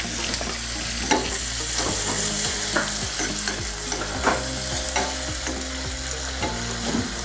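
Sliced ginger and green chilli sizzling in hot butter for a chole topping, a loud continuous close fry with repeated spoon-stirring clinks and scrapes, no voices.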